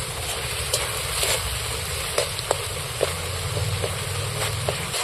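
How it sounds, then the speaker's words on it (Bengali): Fish curry masala sizzles steadily in a pan as it is sautéed down for colour, a constant hiss with occasional sharp spatters and clinks of a spatula, close and moderately loud. "কালারটা আসার জন্য এইবার আমি এটাকে ভালো করে কষিয়ে নিই"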